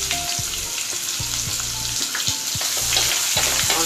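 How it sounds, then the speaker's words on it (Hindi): Chopped onion fries in a hot tempering for a dry potato sabzi, a close, constant sizzle with rhythmic scraping knocks of a spoon stirring the pan and no speech. "इसे हल्का सा ब्राउन होने तक हम भूनेंगे"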